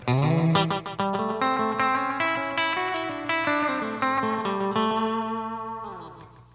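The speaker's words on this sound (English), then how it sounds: "Turn the echo sustain up." Electric guitar played through a Catalinbread Belle Epoch tape echo pedal with the sustain raised, a run of picked notes and chords trailing into dense, smeared repeats that hang and slowly fade after the playing stops.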